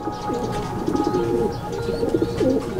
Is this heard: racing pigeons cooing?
yes